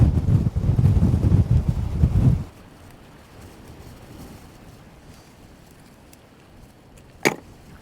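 A strong wind gust buffets the microphone on a rough-weather shore while cod fishing in Northumberland, loud and rumbling for about two seconds, then dropping to a steady low hiss with one brief sharp knock near the end.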